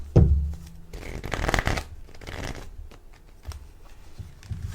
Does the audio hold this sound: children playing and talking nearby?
no